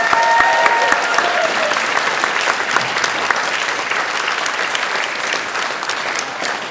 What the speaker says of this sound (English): a massive round of applause to Anthony Anaxaguru